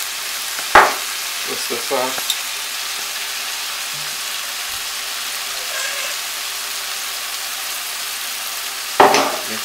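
Callaloo and saltfish with red pepper fry in a pan, making a soft steady sizzle broken by a few sharp scraping stirs at the start and end, with a brief spoken phrase early on.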